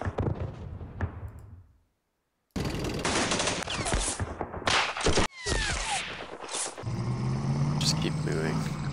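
Gunfire and artillery crack in a Philippines war strategy game, with bursts of rifle and machine-gun fire, heavy booms and a brief silent gap, loud and layered throughout.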